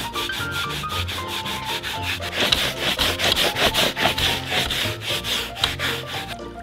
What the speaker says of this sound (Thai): แล้วก็ขัดครับ เพราะขัดเนี่ยมันจะเกิดน้ำยาส่วนใหญ่จะเกิดฟองฮะ